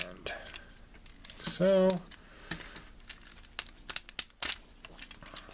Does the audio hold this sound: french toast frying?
no